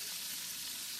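Onions sizzling and frying in a hot pan, a steady close crackle and hiss with no voices.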